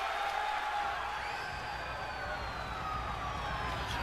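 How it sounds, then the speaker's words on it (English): An ambulance siren wails steadily at a distance on a beach during a wrestling event, its rising and falling tones carried over a low background of wind and crowd noise. "They're driving that ambulance on the beach."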